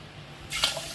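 Water splashes into a pot while sweet pongal is being prepared, a short burst of pouring that starts abruptly after a near-silent moment.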